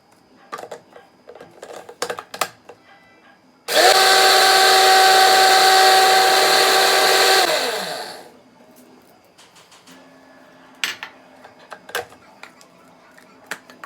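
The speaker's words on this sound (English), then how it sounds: "I am using my dry mill blender to blend this." A dry mill blender whirs loudly and steadily for about four seconds, blending ingredients for neem hair oil, then winds down as the motor stops; quieter handling knocks and clicks come before and after.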